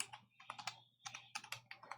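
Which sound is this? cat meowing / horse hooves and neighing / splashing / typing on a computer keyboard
typing on a computer keyboard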